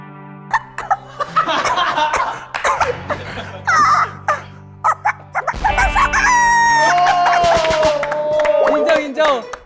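A person's voice imitates an over-excited chicken, bursting into rapid clucks, squawks and a long crowing cry, mixed with laughter.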